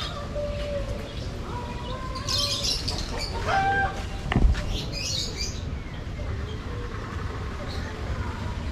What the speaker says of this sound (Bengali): এই পার্কে অনেক পাখি, ময়ূর এইগুলো কিন্তু আছে এখানে।